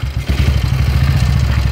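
A 1939 BSA C10 250cc single-cylinder motorcycle engine runs steadily close by, putting out a loud, rapid, even low-pitched chuffing with a flat, clattery character and no talk over it.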